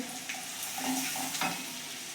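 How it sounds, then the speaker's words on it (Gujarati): Turmeric and coriander-cumin powder frying in a pan for street-style ragda pattice, giving a soft, steady sizzle with a couple of brief stirring scrapes, fairly quiet and close. "એક ચમચી આપણે અહીંયા ધાણા જીરું નાખવાનું છે"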